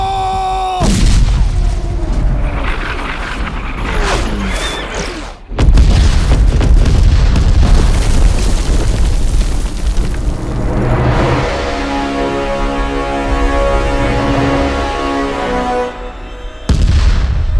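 Loud, booming cannon blasts roll out one after another, heavy and reverberant, with a dense rumbling din between the explosions.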